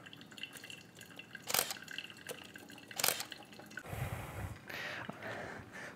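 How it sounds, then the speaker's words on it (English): Water pouring from a kettle spout into a cup, a soft trickling splash with brief louder bursts near the start and middle, then a steadier flowing pour toward the end, close and fairly quiet. "what I want to capture is just the water coming out of the spout."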